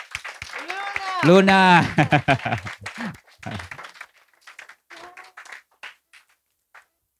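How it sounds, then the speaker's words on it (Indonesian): A voice speaks first, then an audience at a literary gathering gives scattered applause after a kitchen monologue performance. The clapping is light and fades out quickly. "Sekali lagi tepuk tangan untuk monolog dapur."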